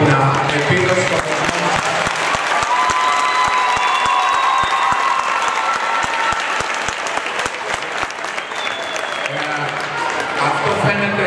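An audience bursts into warm applause after a performance at an official presentation event, dense clapping mixed with some cheering and voices, easing off toward the end.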